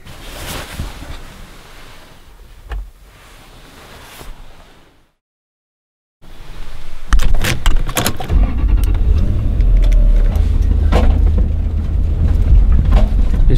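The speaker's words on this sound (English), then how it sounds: "Just driving back down the road now to just one of the areas that I was exploring yesterday." A car drives along a road in the pre-dawn half-light near Mono Lake; after quieter handling noises and a brief silent gap, a loud, steady engine and road rumble fills the cabin to the end.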